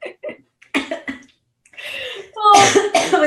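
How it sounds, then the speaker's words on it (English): A close, loud cough bursts out during a live radio interview, with short speech-like bursts before it and a longer rough coughing spell near the end. "I was like, don't cough, don't cough, don't cough."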